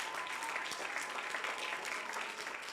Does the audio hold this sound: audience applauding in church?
yes